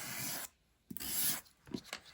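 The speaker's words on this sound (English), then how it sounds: "now I'm just going to get my sander" Quiet sanding of paper strips: three short bursts of scratchy rubbing against paper, separated by brief pauses, close by with no talking.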